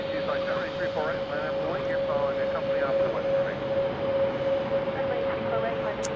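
An airplane roars on runway 34 right at Salt Lake City airport, a steady, fairly distant engine drone with a sustained tone beneath people talking.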